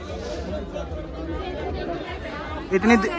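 Dense crowd chatter fills a busy Sarojini Market in Delhi, a steady hubbub of overlapping voices with a brief louder burst near the end.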